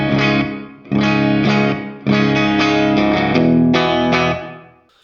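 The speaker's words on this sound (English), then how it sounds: "there's a little bit of reverb on here. It's barely in the mix." Clean electric guitar tone through the ML Sound Lab Amped Oracle, with a touch of reverb and some compression: a few strummed chords ringing out, each sustained and fading, alone without talk.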